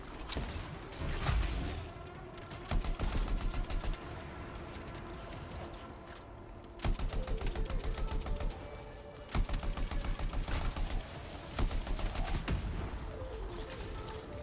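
Rapid bursts of weapon fire from the video game Anthem, with dense rattling volleys repeating every few seconds over a steady background of game sound and music.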